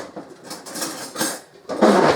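Spoon being picked out among kitchen utensils beside a pan of vegetables, with a few short metallic clinks and clatters close by, no talk.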